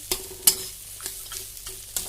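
Whole spices and garam masala fry in a pan, with a soft low sizzle beneath a few sharp, close spatula scrapes and clacks spaced irregularly through the stirring.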